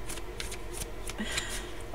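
Tarot cards shuffled in quick papery riffles and flicks, several short bursts close up over a soft background hiss, with no talking.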